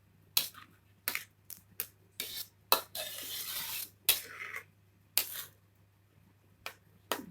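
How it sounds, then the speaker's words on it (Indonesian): A spoon stirs and scrapes a pot of pineapple jam that is nearly boiling, making about a dozen sharp clinks and knocks at an uneven pace with quiet gaps between them. "Ini sudah hampir mendidih ya sahabat. Kita akan aduk terus ya, jangan sampai gosong."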